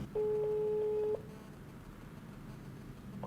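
A single telephone ring tone sounds for about a second as a call is placed to an advertiser, followed by faint line hiss and room noise.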